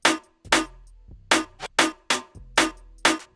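Drop snare samples for a moombahton track in FL Studio: seven sharp snare hits in a syncopated pattern over deep bass thumps, loud and alone.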